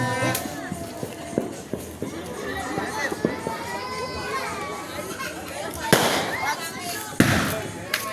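Firecrackers crackle and pop in bursts amid children's chatter and shouting at a New Year celebration, with two sharper bangs standing out near the end.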